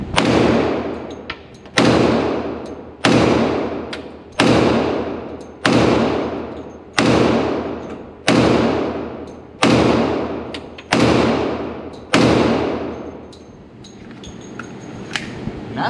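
Ten sharp, loud shots from a Glock 40 Gen 4 10mm pistol with a 6-inch barrel, fired one by one at a steady pace about every 1.3 seconds, each blast trailing off into outdoor reverberation.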